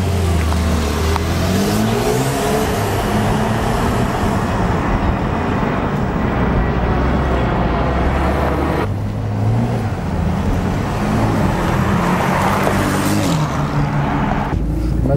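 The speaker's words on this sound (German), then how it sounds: "PDK, so jetzt den Sportauspuff anmachen." A 2016 Porsche 991.2 Targa 4S with PDK gearbox and its sport exhaust switched on accelerates hard through repeated rising revs and gear changes, loud and close throughout with a brief lull in the middle.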